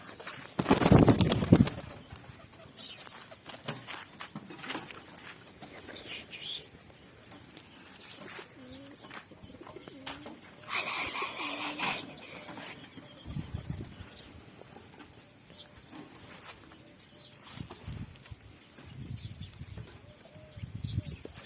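Pigeons coo softly amid a busy, noisy background, with a few bursts of wing flapping and some people talking.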